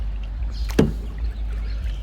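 A single paddle stroke from a Wilderness Systems Ride 115 kayak on a lake, paddled with one hand, gives one brief, close splash and dip against a low steady background.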